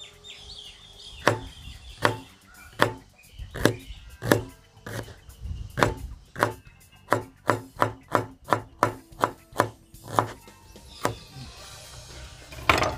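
A knife chops onion on a cutting board in sharp, evenly spaced thuds, about twenty strikes that speed up toward the end, close and clear with no talking.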